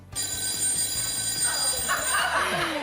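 A telephone bell rings steadily and loudly, a repeated electronic trill filling the whole stretch with no voices over it.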